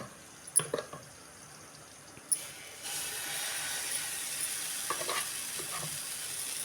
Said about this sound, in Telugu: ఇప్పుడైతే దోశలు అయితే వేస్తున్నాను నేను